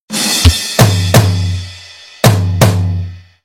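Drum kit playing the fourth pattern of a song at normal tempo: four sharp cymbal-and-drum hits in an uneven rhythm with ringing low sustain between, close and alone.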